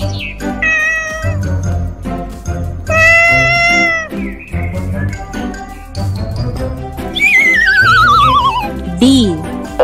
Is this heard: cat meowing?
yes